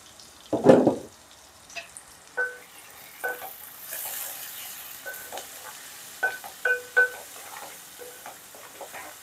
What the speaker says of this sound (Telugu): ఉల్లిపాయ వేగింది కదండి, ఇందులో మనం ఈ టమాటా, ఉల్లిపాయ పేస్ట్ కూడా వేసేసుకొని